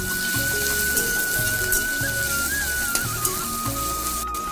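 Chopped garlic and grated ginger sizzle in a hot pan while being stirred, a steady frying hiss with soft scraping. A faint high whine runs underneath, and no one speaks.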